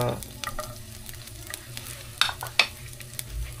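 Garlic stirred and frying in a pan, giving a soft, steady sizzle close by, broken by occasional louder clinks and scrapes of the utensil, with no talk over it.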